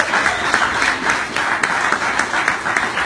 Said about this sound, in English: but round of applause for Chris Cote.